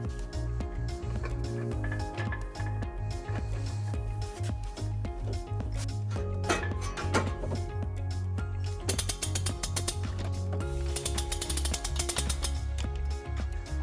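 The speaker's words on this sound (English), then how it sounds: "We will be using our U-Haul exclusive hitch jack." A U-Haul hitch jack raising a trailer hitch into place under a 2004-2020 Toyota Sienna, steady ratcheting and clicking mechanical cranking over a continuous low rumble, close and without speech.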